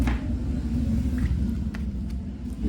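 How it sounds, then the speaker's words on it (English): Low, steady rumble of New York City street traffic fills the background, a continuous distant wash with a few faint passing sounds and no voices. "You guys hear cars or any noise in the background, I apologize."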